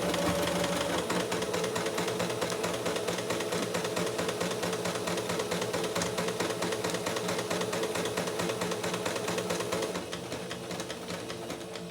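A sewing machine runs steadily, stitching along a drawn line on a tea towel, its needle pattering in a fast, even mechanical rhythm close by, easing slightly quieter near the end.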